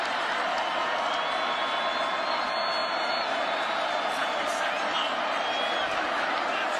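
Dense, steady roar of the crowd at Camp Randall stadium during a Miami (Ohio) at Wisconsin college football game, a loud continuous wash of noise with faint whoops throughout.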